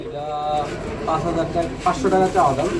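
Pigeons cooing on a farm, a few soft rolling coos close by under someone talking throughout.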